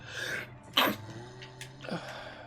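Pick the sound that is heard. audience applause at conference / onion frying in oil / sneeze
sneeze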